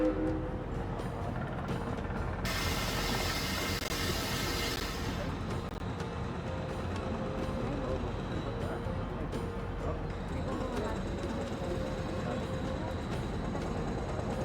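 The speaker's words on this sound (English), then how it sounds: "Now we can sit back and enjoy a relaxing train ride." Train ride aboard the Orient Express in an Agatha Christie video game: a steady, continuous rumble of a moving train carries on throughout, with a brief brighter hiss partway through and some faint tonal sounds layered in.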